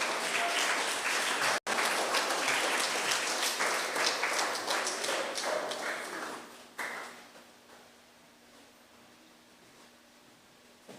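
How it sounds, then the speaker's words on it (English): An audience at a school Special Education Week opening ceremony claps to welcome students, a steady burst of applause that thins out and fades to a few scattered claps. "Let's welcome them with a clap."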